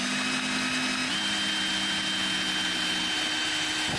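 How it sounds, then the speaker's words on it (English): A power drill drives a bolt while installing seat straps on a Yamaha motorcycle, a steady whine that shifts pitch briefly partway through before cutting off near the end. "I use the drill to drill the second one"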